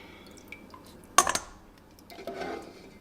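Prime rib bone broth is poured through a colander, heard as a sudden close splash and clatter of liquid and bones followed by a softer second gush and trickle, with no talk.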